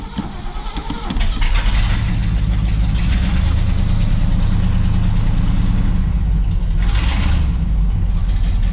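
A rare 1970 Pontiac Grand Prix with a four-speed catches and settles into a loud, rough, close idle, its deep rumble steady after a brief cranking start.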